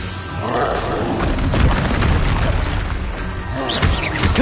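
A Confringo blasting spell explodes in the video game Hogwarts Legacy, a loud rumbling boom with crackling debris that swells and rolls on for several seconds, followed by a fresh burst near the end.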